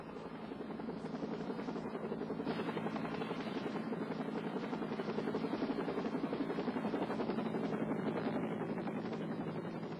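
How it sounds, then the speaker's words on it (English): A Life Flight medical helicopter from Portland arrives at an accident scene, its rotor thumping in a rapid steady chop that swells slightly toward the middle, fairly distant and with no voices. "The Life Flight helicopter arrived from Portland in less than 15 minutes."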